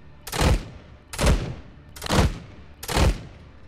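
Four loud, evenly spaced gunshots boom out in the ArmA 3 military video game, fired from a Huey helicopter, each a sharp crack with a decaying tail and no talking.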